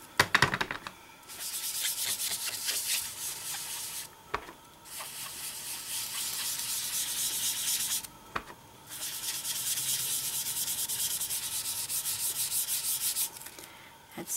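Ink is scrubbed onto a card in quick repeated rubbing strokes, three long bursts of dry, scratchy friction separated by brief pauses, close and fairly quiet.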